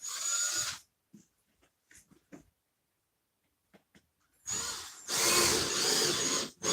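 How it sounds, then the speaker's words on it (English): A power drill drives a screw through a foam scenic backdrop, whirring loudly for about a second at the start, then falling quiet through a few faint clicks before a longer, louder burst of drilling near the end. "Second screw going in."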